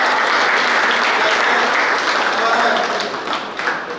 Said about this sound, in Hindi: जोरदार तालियों की गड़गड़ाहट